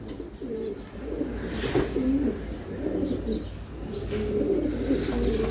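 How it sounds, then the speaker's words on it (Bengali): A male racing pigeon coos repeatedly in low rolling phrases, close and fairly soft, with a steady background hum. "নর তো ভাই হাতেই ডাকতেছে দেখা যায়"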